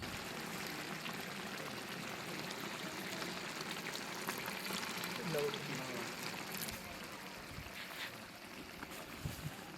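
Water pours into a pot of rice for rabbit dum biryani in an outdoor village kitchen, a steady rushing flow with splashing, while someone speaks over it throughout.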